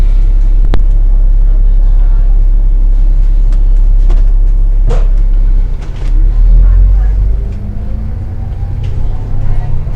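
Low steady engine rumble of a city bus in motion on the Las Vegas Strip, with faint clicks and rattles, shifting briefly midway, under a speaking voice.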